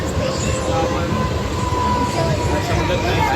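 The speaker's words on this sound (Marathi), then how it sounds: "सो काय आता ट्रेनमध्ये बसलो आहे" Loud, steady rumble of a moving train from inside the carriage in Maharashtra, with a constant low roar and faint metallic whine.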